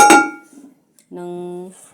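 A metal cooking pot is set down in a kitchen sink with a sharp, close clank, then a short pause, then a sustained, tonal ring.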